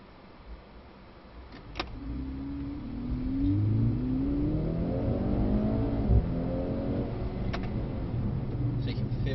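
A Mercedes-AMG C63 S accelerates hard on a race track, engine note rising steadily in pitch through the gears, loud and close from inside the cabin, with a brief shift break midway and voices talking over it.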